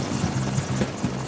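A rescue helicopter flying nearby, its rotor beating in a fast steady chop over a continuous engine whine.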